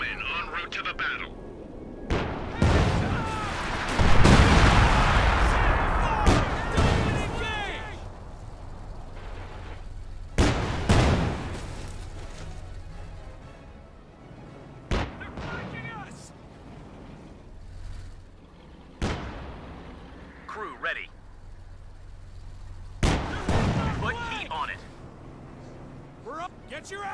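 Artillery barrage in the video game Company of Heroes, several heavy booming blasts spaced across the battle with rumbling vehicles and military radio voices talking in between.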